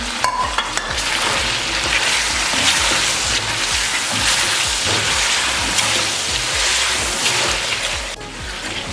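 Tomatoes and finely chopped green chillies fry and sizzle steadily in a pan for chicken korma, with a dense crackle and occasional stirring scrapes throughout, close and fairly loud with no talking.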